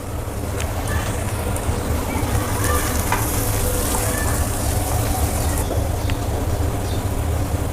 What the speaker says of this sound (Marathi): त्यानंतर कांदा आणि हे छान परतवून घेणार आहे